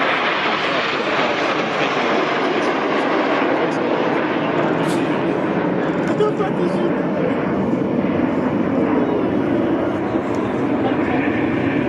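Red Arrows RAF jets flying in formation at an airshow over Baltimore under low cloud, a loud continuous engine roar that stays steady throughout.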